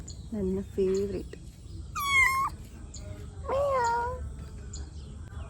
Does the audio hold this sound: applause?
no